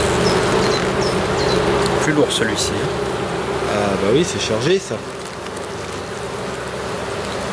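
Dark honeybees buzzing around an opened hive with supers being checked, a steady close insect drone under a voice speaking, with brief handling knocks and scrapes.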